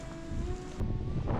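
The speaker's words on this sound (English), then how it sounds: "I know it's quite windy here" Gusty wind blowing over a microphone outdoors in a town, a steady low rumbling buffet rising in strength partway through, with a faint tonal hum underneath.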